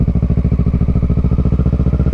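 A Kawasaki Ninja 650 motorcycle engine, heard close and loud with a rapid, even pulsing throb as it runs on the road, with no voices.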